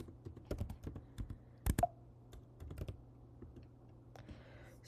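A computer keyboard clatters as a command is typed, with quick irregular keystroke clicks close by, a brief pause, then a few last taps, all without talk.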